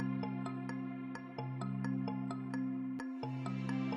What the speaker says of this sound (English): The phone rings and she answers.